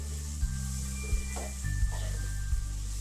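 Grated corn mixed into a tempering in a kadhai sizzles and fries while a spatula stirs it continuously, with several scraping knocks against the pan.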